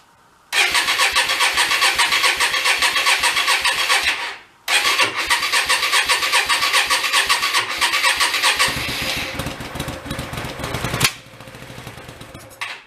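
A Hyosung Aquila motorcycle that had sat dead for nine years roars at full throttle with the choke on, a loud raw engine note that cuts out briefly, restarts, then roughens and drops toward a lower idle.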